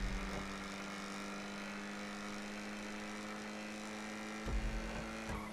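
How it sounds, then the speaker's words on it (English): Engine of the Ocelot Jugular car in the video game Grand Theft Auto V, a sustained steady drone at speed with faint thumps near the end. "Such a great sounding car."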